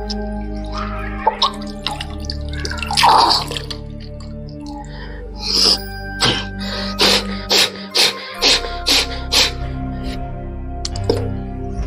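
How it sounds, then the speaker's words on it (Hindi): Jala neti yoga cleansing, water drawn in through the nose and expelled through the mouth: a loud watery gasp and snort, then a run of short, sharp sniffing and spitting bursts at a steady rhythm, close up. "नाक से पानी को अंदर लेंगे और मुंह से बाहर करेंगे।"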